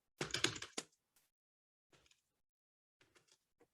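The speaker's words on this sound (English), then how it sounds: "let's see my typing here" A quick burst of computer keyboard typing, loud and close, is followed by a few sparse, faint key taps separated by near-silent pauses.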